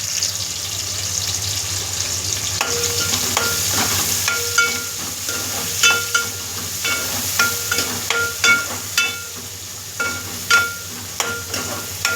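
Chopped onions, green chilies, curry leaves and cumin dropped into hot oil, a steady sizzle rising after a few seconds, then joined by repeated sharp spatula taps and scrapes against the pan, close and with no speech.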